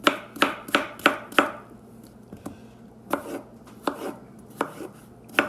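Knife chopping food on a cutting board, with cherry tomatoes being cut: five quick evenly spaced chops, a pause with faint taps, then several more sharp close slices.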